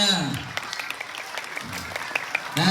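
Schoolchildren clap in a brief ragged round, faint and uneven, with voices talking before and after it in a classroom setting.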